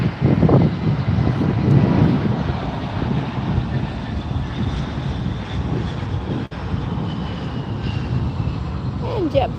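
A JetBlue airliner arrives at Fort Lauderdale airport with a steady, broad engine roar that stays loud for the whole stretch, mixed with wind buffeting on the microphone and people talking nearby.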